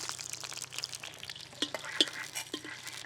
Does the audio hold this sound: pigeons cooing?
no